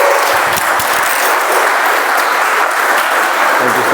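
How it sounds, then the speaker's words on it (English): Meeting audience applauding Toastmaster Abhinish, loud, close, continuous clapping from a roomful of people, dense and even for the full few seconds with no speech over it. "Let's welcome with a round of applause Toastmaster Abhinish"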